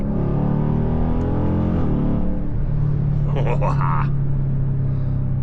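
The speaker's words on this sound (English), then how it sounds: "You don't do the intake, you don't get that deep, deep throaty noise" A Dodge Durango SRT 392 with an aftermarket intake gives a deep, throaty engine rumble, loud and continuous, close by with a rise and fall in revs.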